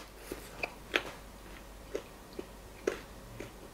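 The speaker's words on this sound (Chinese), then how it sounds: "也不错啊，嚼起来咯吱咯吱的，不难吃啊" Close, quiet crunchy chewing of grilled pig penis: a series of irregular crisp bites and chomps spaced about half a second apart, with no talking.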